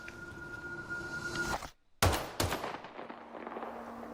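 Gunshots in the Black Ops 7 campaign: two sharp, loud reports in quick succession after a brief silence, with ambient game sound and a lingering tail around them.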